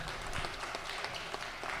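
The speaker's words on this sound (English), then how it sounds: "y'all give these pages a big round of applause" Georgia State Senate members give the pages a round of applause in the chamber, a brief, dense burst of clapping heard fairly close and continuous throughout.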